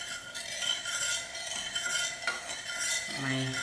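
A cinnamon stick being stirred in a pan while preparing halwa: scraping and light metallic clinks of a spoon on the pan, close and moderate, with a faint sizzle beneath.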